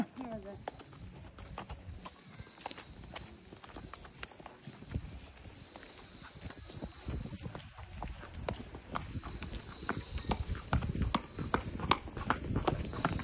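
Horse hooves clop at a steady walking pace, loud and close, over a constant high chirping of insects, with faint voices in the background.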